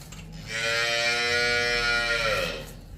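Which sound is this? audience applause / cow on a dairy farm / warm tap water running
cow on a dairy farm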